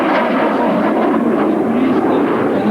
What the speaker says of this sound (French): L'appareil qu'il nous présente est un Alpha Jet équipé de 2 moteurs Snecma Turbomeca